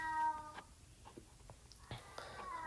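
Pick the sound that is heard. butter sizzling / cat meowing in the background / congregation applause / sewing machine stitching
cat meowing in the background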